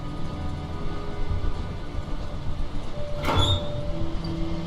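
Rumbling rail noise of a metro train in the video game Underrail, a steady low mechanical drone with a brief hiss or door-like burst midway, heard alone without talk.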